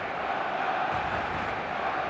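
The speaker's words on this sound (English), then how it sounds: "The stadium is full of noise and energy." Stadium crowd in the football video game eFootball, a continuous dense roar of fans filling the space at steady loudness with no distinct voices standing out.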